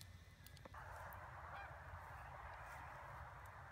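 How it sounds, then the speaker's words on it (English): Canada geese honk repeatedly overhead as they fly in springtime Michigan, a dense continuous chorus of calls that stays loud for the whole stretch after a quieter opening. "That's how you know when it's springtime in Michigan and the Canadian geese are flying."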